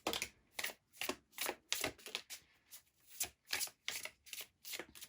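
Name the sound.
shuffling tarot cards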